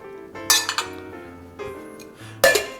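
Ice cubes clatter and clink into a metal cocktail tin in two bursts of sharp bright rattles, close and loud, with a quiet hum between them.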